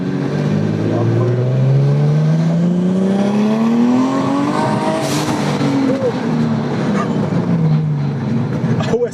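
A Lexus fitted with a swapped 2JZ engine accelerates hard, its loud, droning engine note climbing steadily in pitch through the gears, close and continuous, with a brief voice near the end.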